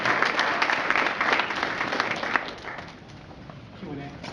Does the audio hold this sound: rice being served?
no